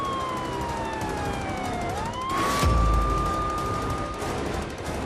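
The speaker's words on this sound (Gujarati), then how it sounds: "આ પોલીસની ગાડીના ભૂંગળાનો અવાજ કાઢે" A police car siren wails in a steady rising and falling tone, fairly close and continuous, with a brief loud bump partway through and no talk over it.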